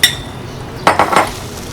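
Eggs being beaten and mixed in a pan for a malunggay and caramelized onion omelette: a few quick metallic clinks and scrapes of utensil against pan in a short cluster, fairly close, with no talk.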